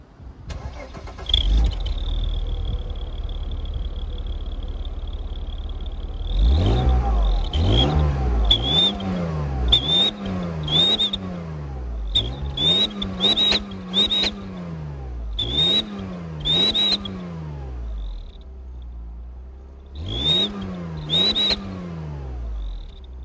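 A Mercedes 124 fitted with an Amazon turbo sounder on its exhaust idles at first, then is revved in a string of repeated throttle blips, each followed by a rising whistle from the sounder, loud and close.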